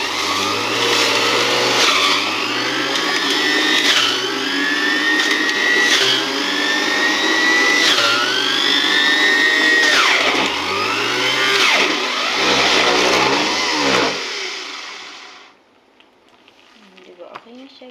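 A juicer machine running while making juice gives a loud, steady motor whir whose pitch repeatedly dips and recovers as it works, before it winds down and stops near the end.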